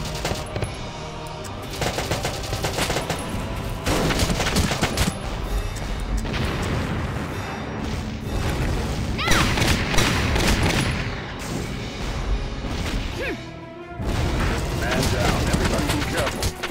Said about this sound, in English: Careful, you're headed towards the machine gun.